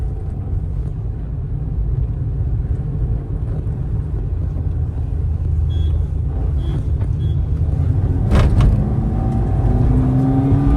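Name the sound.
Maruti Swift and Toyota Glanza cars revving in drag race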